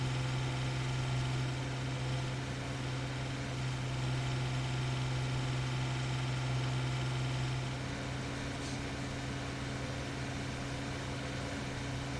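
Massey Ferguson tractor engine in Farming Simulator 17, a steady droning hum with low harmonic tones that shifts slightly lower partway through, continuous and alone with no talk.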